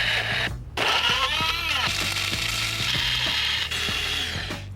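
A lab grinder running steadily as food samples are ground up, a loud continuous mechanical whir with repeated ratcheting clicks and knocks throughout, close to the listener.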